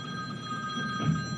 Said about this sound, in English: now you hear my phone ringing on this video